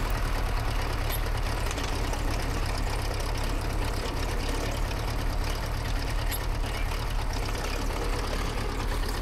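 Massey Ferguson MF 35 tractor dragging a chained windfallen pine log, with a steady, loud low engine drone and continuous rumble and no pauses.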